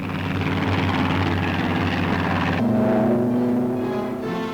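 A Thunderbolt fighter aircraft roars steadily during takeoff, its loud propeller engine droning close and continuous, with the pitch shifting partway through as it passes.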